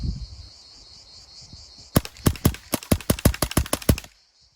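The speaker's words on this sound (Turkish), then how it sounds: "Şarjör kapasitesi 12 bir atış yaptım. 11 pellet kaldı. Atacağım hepsini." Rapid series of about a dozen sharp pellet shots from a 5.5 mm air rifle striking a motorcycle helmet, fired in quick succession, loud and close, with no talk over them.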